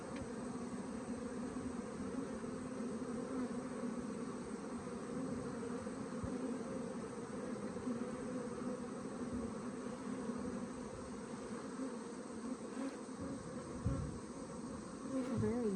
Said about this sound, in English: They're very gentle bees too.